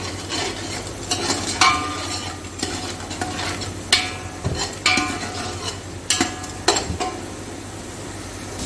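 Onions and six or seven cloves fry in a pan, a constant sizzle broken by repeated scraping and clanking of a spoon stirring against the metal, close and fairly loud with no voices.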